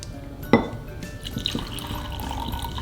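Water is poured into a container for mixing slime, a brief clunk followed by a soft, continuous trickling stream at close range.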